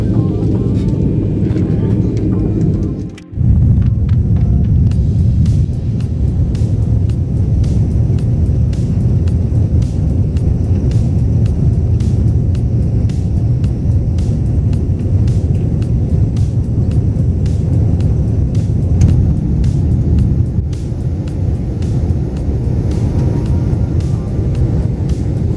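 Loud, steady low roar inside an airliner cabin during takeoff from Taiwan, with a deep rumble that builds and holds for over twenty seconds, heard from a window seat with faint rattles.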